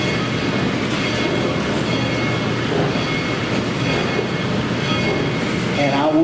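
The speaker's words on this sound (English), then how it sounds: "I will pause until the train goes by, because it talks louder than I do." A train passes near Penn-Laird, Virginia, its continuous rumble and wheel clatter loud and steady throughout, with a faint squeal rising near the end.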